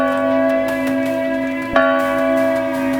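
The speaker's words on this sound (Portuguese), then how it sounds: "o sino do confessionário ainda toca sozinho" A church confessional bell rings with a steady, sustained metallic tone, its rich overtones humming continuously, with one brighter strike standing out midway.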